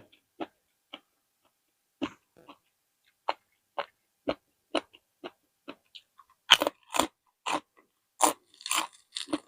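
Someone eats crunchy pork rinds alongside papaya salad. A dozen or so sharp, close crunching bites come in a loose rhythm, growing denser and louder toward the end against near silence.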